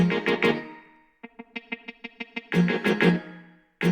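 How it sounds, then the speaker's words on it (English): A dry instrument phrase is followed by a run of short, evenly spaced repeats with quick, tight echoes, giving a slapback reverb feel before the playing resumes. "Slap reverb is the one with a very short decay time, but you turn up the wet knob a lot."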